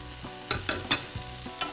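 Frozen green peas sizzle in a hot pan with a steady, close frying hiss, broken by a few scraping stirs that come in soft uneven pulses.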